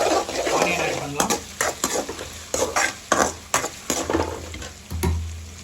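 Garlic and ginger frying with green chilli in a pan for chicken masala, a steady close sizzle broken by repeated stirring scrapes and clinks of a utensil against the pan, with no talking.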